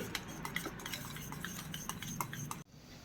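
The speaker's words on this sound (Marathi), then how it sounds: "पहा आता मी त्याला एकजीव करून घेते" A metal spoon stirs and mashes cooked dal with chopped chakvat greens in a pot, quick repeated clinks and scrapes close by, quiet and without speech, ending in a sudden hush.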